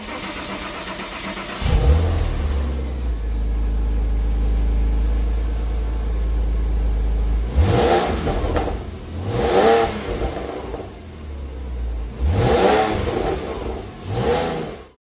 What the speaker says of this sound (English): It's time for a cold start.